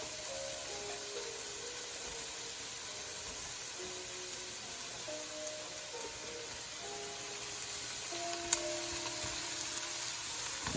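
Diced mushrooms sizzle steadily in a hot frying pan, a faint continuous hiss with a few soft clinks, heard alone without talk.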